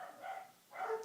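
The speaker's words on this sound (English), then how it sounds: "Last question, with the dogs barking in the background." Faint dogs bark twice in the background, distant and muffled, with a pause between the barks, during an indoor question-and-answer session.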